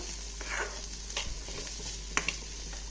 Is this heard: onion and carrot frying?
yes